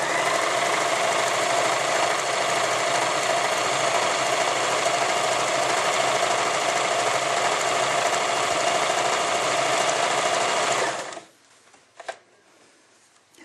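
A sewing machine sews an overlock pattern on fabric with a loud, steady whirring buzz for about eleven seconds, then stops abruptly, followed by a couple of faint clicks.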